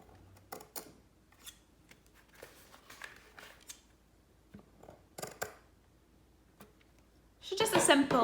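Scissors snipping slits into lampshade fabric along the underside spokes: a few crisp, separate cuts spaced irregularly at close range, ending in a louder burst of rustling fabric.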